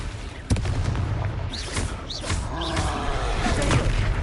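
Confringo fire spell explosions in the video game Hogwarts Legacy, a sharp blast followed by whooshing magical effects and rumbling booms in a busy combat soundscape.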